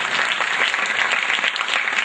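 An audience breaks into loud, steady applause for Shri Datta at a Hindi award ceremony, dense clapping sustained throughout with no voices over it.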